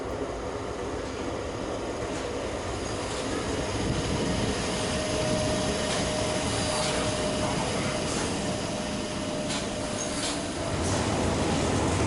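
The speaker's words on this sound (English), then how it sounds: "The next train at platform 2" A Tyne & Wear Metro train rumbles and roars steadily at a station for the whole stretch, loud and close, with a faint tonal whine riding over the broadband noise.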